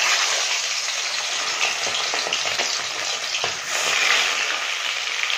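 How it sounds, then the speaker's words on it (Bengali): Chicken pieces rubbed with salt and turmeric fry in hot oil in a kadai, giving a loud, close, continuous sizzle with bursts of spattering and no voices. "নুন আর হলুদ মাখিয়ে রেখেছিলাম চিকেনগুলো, আমি একটু ভেজে নেব।"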